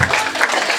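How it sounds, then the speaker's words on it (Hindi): Audience applause at a Hindi comedy poetry gathering (kavi sammelan), a loud, dense patter of many hands clapping together, close and continuous for under a second. "तो एक बार ताली बजाइए, पीछे तक बजाइए, जोरदार बजाइए एक बार।"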